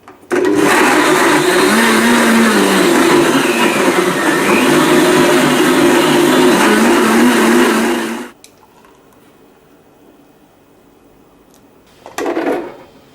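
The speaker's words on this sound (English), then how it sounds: "Just blend on high for about 20 to 30 seconds." A blender running on high, blending a banana smoothie: a loud, steady motor whir for about eight seconds that then cuts out abruptly, followed by near-silence and a brief clatter near the end.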